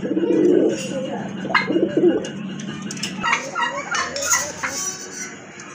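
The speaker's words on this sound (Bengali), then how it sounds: "অনেক বড় সাইজের কবুতর" Large pigeons of local Raj Golla and big Paira breeds coo in deep, throaty rolls, near and moderately loud, followed by scattered chirps and clucking from other birds.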